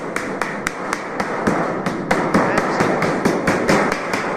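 A hammer strikes a standing-seam metal terrace roof during installation, about a dozen sharp, evenly spaced close blows ringing out one after another with no speech.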